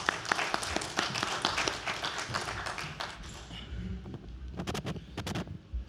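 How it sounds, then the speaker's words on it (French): An audience at a sociology colloquium gives brief applause for two presenters, dense clapping that thins into a few scattered claps and dies away. "On peut vous applaudir."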